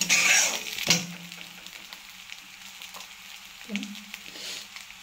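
Salt being stirred into lemon rice in a hot pan, a soft sizzle and scraping of a spoon, with a louder clatter early on and a second stroke later, no voices.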